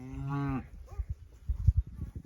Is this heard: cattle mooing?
yes